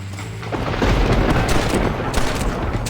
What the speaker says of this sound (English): Follow me, we'll shoot our way in there.